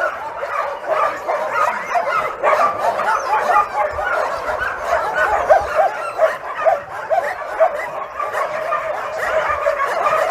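A dog barks and yips rapidly and continuously at close range, the sharp high calls overlapping in a dense, excited chorus.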